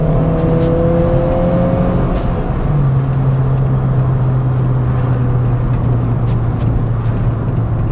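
A Fiat Punto HGT engine, with about 130 horsepower, accelerates hard in third gear, its note climbing and then holding as a loud, continuous drone with wind and road noise and no speech.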